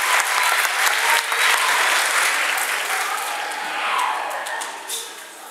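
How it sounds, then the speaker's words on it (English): A concert audience at a junior high band spring concert gives a dense, sustained round of applause for the trombone section, the clapping loud and continuous before gradually thinning out. "give them a good hand of applause"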